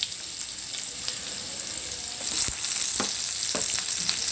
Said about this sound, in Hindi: ये जो हमने प्याज काट के रखी हैं ये भी हमने डाल देनी है हमारे कुकिंग ऑयल में